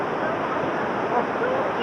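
A waterfall seen from above on a European sightseeing trip, heard as a steady, dense rush of falling water that holds constant and fairly loud throughout with no clear break.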